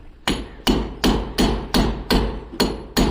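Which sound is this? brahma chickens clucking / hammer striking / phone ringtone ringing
hammer striking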